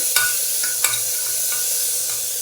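Steady sizzling of onion and tomato stir-frying in a hot pan for a tempering, with a few scraping stirs, close and continuous, no voices.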